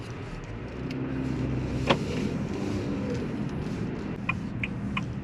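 A 2024 Haval H6 2.0T Premium turbo petrol SUV driving on the road, with a steady low engine and road rumble, a few faint clicks and ticks over it, and no talk.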